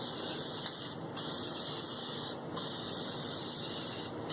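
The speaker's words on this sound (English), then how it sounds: "So I'm just going to spray that on there" Spray adhesive hisses steadily from an aerosol can, broken by a few brief pauses between long bursts, close and clear with no talking.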